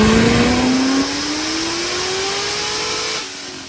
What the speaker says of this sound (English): we'll do another dyno rip.